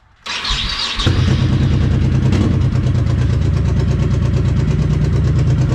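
A motorcycle starts in snowy 36-degree weather: a brief cranking whir catches into a loud, close engine that settles straight into a steady, rapid idle thrum and holds there.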